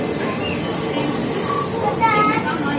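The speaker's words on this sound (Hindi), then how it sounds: "चलिए, मेट्रो आ गई।" Metro train rumbling in with steady rail noise and faint squealing wheels, a constant mid-level roar throughout.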